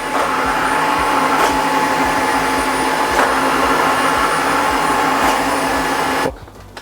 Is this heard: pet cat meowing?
no